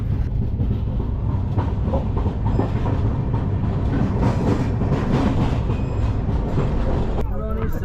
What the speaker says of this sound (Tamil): அரக்கோணத்துக்கு முன்னாடி வந்து சிக்னல்காக ஒரு டென் மினிட்ஸ் வெயிட் பண்ணி இப்போ ஸ்டார்ட் பண்ணியிருக்காங்க